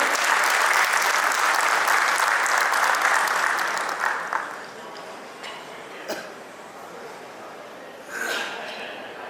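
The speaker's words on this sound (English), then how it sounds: "Let us big applause for Vivek Karkhla." Applause from a conference audience greeting an invited speaker, loud and dense for about four seconds before thinning out, with scattered claps and a brief renewed burst near the end.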